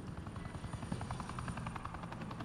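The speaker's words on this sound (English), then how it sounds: "She just called in a helicopter." A helicopter's rotor thumps in a steady rapid chop, fairly loud and continuous, with a constant engine whine behind it.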